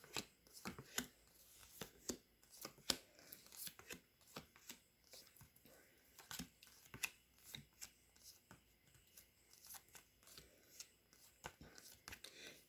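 Tarot cards are shuffled and split into piles close up, giving a busy stream of soft slaps, riffles and taps at an irregular rhythm, fairly quiet throughout.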